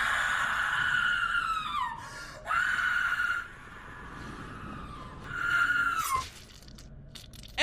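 A girl in a horror film scene lets out long, loud, high screams in several bursts, with breathy gasps and quieter pauses between them.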